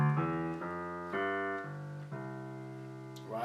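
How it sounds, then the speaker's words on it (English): A piano sounds a Highlife 2-5-1 bass line, a handful of sustained low chords and notes changing roughly every half second, soft and unaccompanied. "Highlife 2-5-1, the bass line would sound like this."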